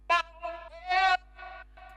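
A sampled vocal stem with a sidechain ducking effect: short sung syllables pulse up and down in level, cutting in and out in a choppy, pumping rhythm, clean and alone.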